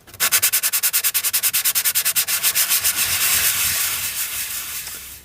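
A 3D print is rubbed by hand with 180 grit Proto Pasta polishing paper in fast rhythmic back-and-forth strokes that blur into a steady close hiss, with no talking.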